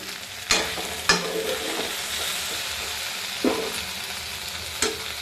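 Okra sizzles steadily as it sautés in oil in a pan for a South Indian kulambu, with a few sharp scrapes of a spatula stirring it against the metal.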